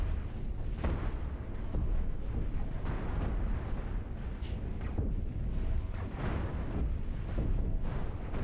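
Ship weapons firing in Cosmoteer, a spaceship building game, as a dense, continuous barrage of thuds and booms that stays loud throughout, with no talk over it.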